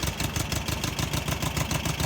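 An abandoned dune buggy's engine runs in a fast, rough, pulsing putter, loud and close, churning evenly throughout with no voices.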